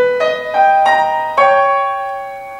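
Solo piano plays the fire theme from the 8th sonata in a lecture recital, four struck chords or notes in a row with ringing harmonics, the last one sustained and slowly decaying, close and clear with no talking.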